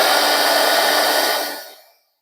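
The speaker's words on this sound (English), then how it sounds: "so when you put the heat gun on it, it melts it." A heat gun blows steadily as it melts plastic embossing powder on a photo, a loud broadband whoosh alone for about a second and a half before it cuts off and fades to silence.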